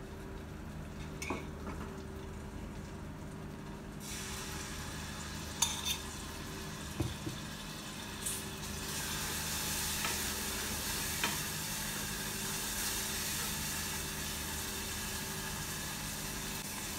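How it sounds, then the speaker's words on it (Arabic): Tomato paste frying in olive oil with ground hot red pepper, a steady broadband sizzle that swells after a few seconds, with occasional stirring clinks of a utensil against the pan and no talk. "وشوية من زيت الزيتون أحمس بيها المعجون قليل"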